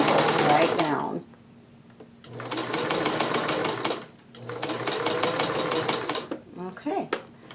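A domestic sewing machine stitches jellyroll quilt strips in three steady bursts of fast, even whirring, separated by short pauses, with a person talking quietly between the runs.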